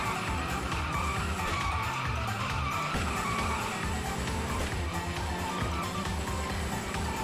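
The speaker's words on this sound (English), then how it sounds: "those drifts that I did were pretty cool" In the racing game Fast Beat Loop Racer GT, a car drifts with a continuous tire squeal over a steady engine roar, the skid sustained and loud with no talking.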